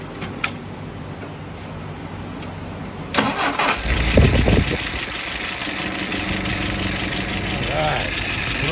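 A WO 636SA engine cranks and fires up partway through, then settles into a steady idle that continues loudly to the end, following a quieter stretch with faint background talk.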